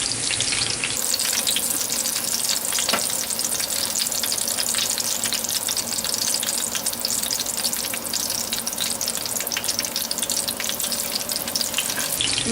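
Sage leaves fry in oil with a steady, dense sizzle and crackle that holds evenly from start to finish, close up and with no voices.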